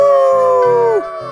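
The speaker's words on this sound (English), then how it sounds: "Wolves." A long, loud howl slides downward and trails off, with a second lower wavering howl continuing beneath it, close and clear.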